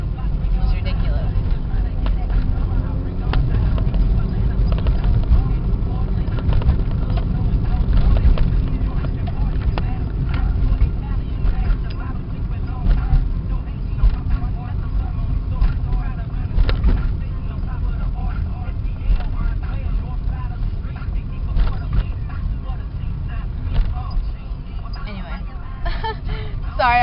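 A car's steady interior road rumble and engine drone continue throughout the drive, with a voice talking over it.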